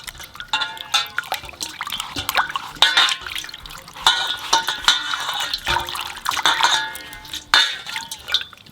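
Leaves being washed by hand in salt water, with close splashing, swishing and dripping in an irregular rhythm and occasional light clinks of a container.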